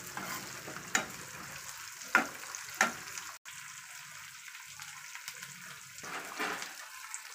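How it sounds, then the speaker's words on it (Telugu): Tempering of spices, dried red chillies and curry leaves frying in a pan for Andhra tomato pappu charu, a steady soft sizzle with a few sharp crackles and pops, close up with no talking. "తాలింపు నీట్గా వేసుకోవాలి"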